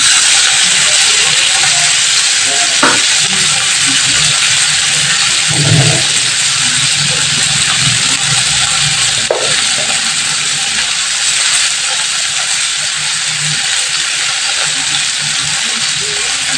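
Chopped onion, garlic, ginger and tomato sizzle in a pan with a constant bright hiss of frying, broken by a few faint clinks and stirring knocks.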